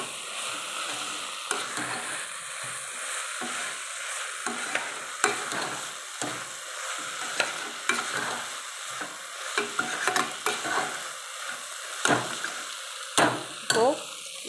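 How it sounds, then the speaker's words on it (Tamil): Oil sizzles continuously while a utensil scrapes and clatters through a pot of frying vegetables for vegetable rice in irregular stirring strokes; no one speaks. "இது கூட நல்லா மிக்ஸ் பண்ணிவிடுவோம்."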